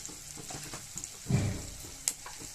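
Ginger sizzles in hot oil with turmeric and cumin powder, a steady close frying crackle broken by a louder stir-like burst midway and a sharp clink shortly after.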